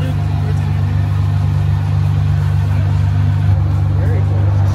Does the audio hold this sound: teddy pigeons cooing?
no